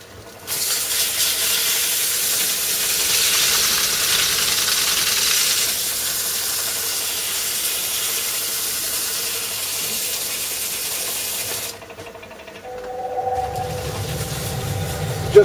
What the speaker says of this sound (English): Just turned on my dust extractor.